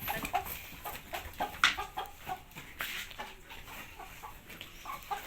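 Chickens cluck repeatedly in an irregular, busy stream at moderate distance, with scattered sharper calls over a noisy outdoor background.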